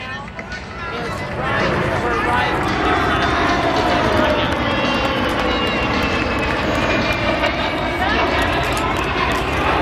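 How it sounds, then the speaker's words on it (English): KC-135 aircraft from McConnell flying past at an air show with wheels, flaps and refueling boom down, a broad steady engine roar that swells after the first seconds and holds loud throughout, with an announcer talking over it. "Here they come, folks, your home team from right here at Mcconnell and the KC 135."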